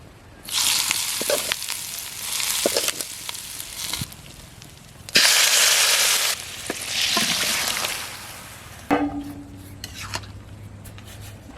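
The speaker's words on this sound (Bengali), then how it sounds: "যে দেখুন সরিষাটা ভাজা হয়ে গেছে" Mustard seeds fry in hot oil as a tempering for a pumpkin curry, loud crackling sizzle in several bursts that swell and fade, punctuated by clinks of a utensil against the pan.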